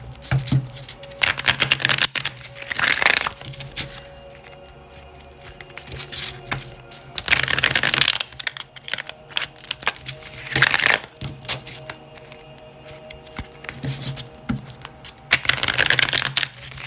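Tarot cards being shuffled in repeated bursts of crisp riffling and shuffling, separated by short quieter gaps, close and fairly soft with no talking.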